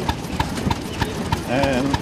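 A 1914 Imperial paraffin oil engine built in Keighley, West Yorkshire, runs with a regular thudding beat, several evenly spaced knocks at close range. Someone talks over it near the end.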